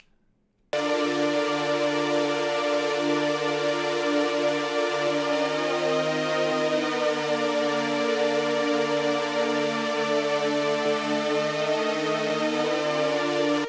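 A sustained synth lead of layered mono saw waves holds a rich, steady tone, its pitches slowly bending and gliding between notes with portamento for a long stretch, alone and fairly quiet.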